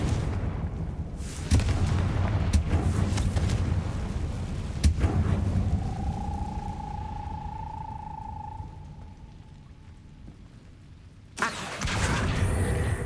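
Confringo fire spell explosions from the Hogwarts Legacy video game: a few heavy booming blasts, separated by a drawn-out whistling tone in the middle and ending with a sudden loud burst. No one speaks.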